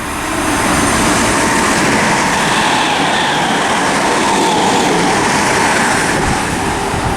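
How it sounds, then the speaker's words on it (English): Greater Anglia Class 321 passenger train to Braintree passing through Romford station on the Great Eastern Main Line, a loud sustained rumble and rush of wheels and carriages up close throughout. "Passing through now is a Greater Anglia service to Braintree."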